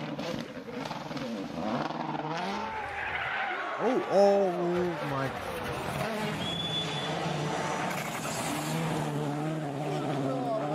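Turbocharged rally cars race past with engine roar and tire skids, a sustained loud roar with rising and falling pitch sweeps around the middle, while someone talks over it.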